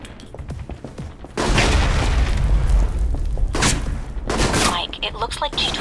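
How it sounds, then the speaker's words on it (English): Grenade explosion in the video game Alpha Protocol during an embassy shootout, a heavy booming blast followed by a sustained roar and scattered gunfire, loud and close with voices around it. "Grenade out."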